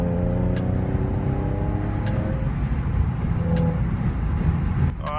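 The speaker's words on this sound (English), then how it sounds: "A little downshift under the bridge" An old, reliable car rumbles along as it downshifts beneath a bridge, with a steady low engine drone and road noise, a rising engine note partway through, and faint ticking sounds on top.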